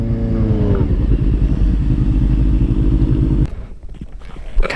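A Honda Hornet motorcycle engine runs loud and close with a steady low throb, then cuts off abruptly near the end, leaving scattered clatter and small handling noises.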